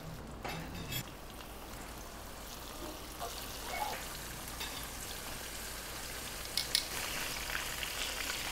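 Cornstarch-dipped tuna pieces fry in hot oil with a steady, close crackling sizzle and scattered pops, continuing without voices throughout.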